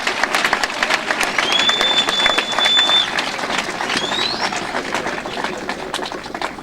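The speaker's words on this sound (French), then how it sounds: "Lelo na kosenga bino bo applaudir makasi pona bapanzi sango na biso batelemi liboso." Loud crowd applause for journalists at a political morning event swells and then gradually eases, with a few high whistles rising above the dense clapping.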